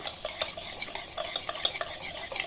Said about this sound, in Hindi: पहले इन सारी चीज़ों को मिक्स कर लेंगे